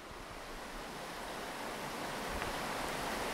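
Rapids on the Kymenkoski river roar as a dense, unbroken wash of rushing water, loud and close throughout with no pauses or voices.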